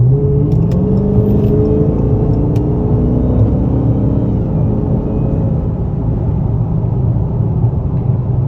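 A Dodge Charger Hellcat accelerates past traffic, its engine a loud, steady low rumble that holds throughout without letup.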